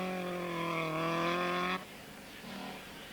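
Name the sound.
Ford Escort rally car driving on winter stage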